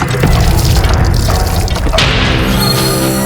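Tap water pours steadily into a sink as someone washes hands and face indoors, a continuous splashing rush with a shift in the flow partway through.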